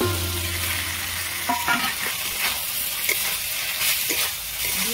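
Fried okra being stirred into sizzling, reduced gravy for a prawn bhindi dish: a constant close hiss of frying with intermittent scraping and clacking spatula strokes, no voices.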